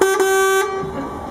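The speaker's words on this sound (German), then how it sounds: "Hupe." A Mercedes car horn gives a single loud, steady honk lasting about half a second, with a brief break near its start, then fades into quiet street background.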